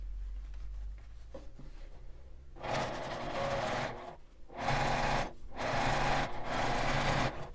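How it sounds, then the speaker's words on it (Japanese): A sewing machine topstitches a fabric zipper pouch in several bursts of rapid whirring stitching, separated by short pauses with faint handling sounds, close and clear. "こちらも同じく表側に端ミシンをかけます。"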